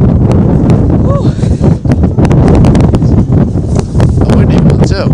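Strong wind buffets the microphone continuously on a cold day at a girls' lacrosse game, a loud roaring rumble with gusty bursts throughout.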